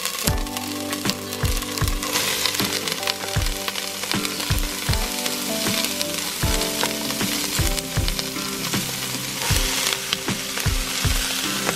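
Zucchini noodles sizzle and crackle in a hot pan as they are tossed, with a loud continuous fry broken by regular knocks and scrapes from stirring, close by.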